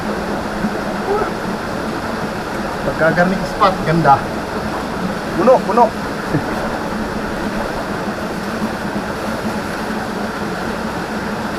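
A river flows steadily with a constant broad rush of moving water, while people talk briefly over it partway through.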